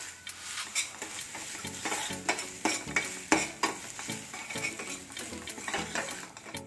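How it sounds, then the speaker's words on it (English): Ginger, garlic and Kashmiri chili paste fries in oil for restaurant-style chicken tikka masala, a steady close sizzle broken by repeated scraping stirs of a spoon against the pan, with no talking. "You need to fry the paste till the raw flavor goes off."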